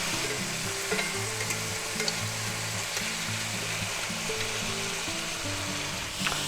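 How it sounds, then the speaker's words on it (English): Mushrooms sautéing in a pan for a garlic butter mushroom dish, giving a steady, dense sizzle with stirring scrapes throughout, fairly close and even in level with no talking. "we're going to saute them until most of the moisture comes out"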